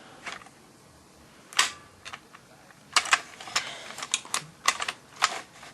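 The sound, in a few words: Nerf Stampede blaster continuously auto-firing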